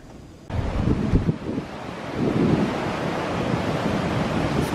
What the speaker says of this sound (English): It's a bit of a wild, wet and windy one this morning.